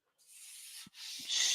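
Hand sanding of a tank with 180-grit sandpaper gives a close, steady raspy rubbing hiss in two strokes with a brief pause between them.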